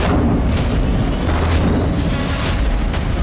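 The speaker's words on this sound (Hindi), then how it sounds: "तेल डिपो में एक बम विस्फोट के बाद लगातार कई धमाके सुनाई दिए।" Explosions at a fuel depot after a bombing in Hudaydah, Yemen: a continuous dense rumble of booms with several heavier thumps about every second, loud and distant-sounding, without talk.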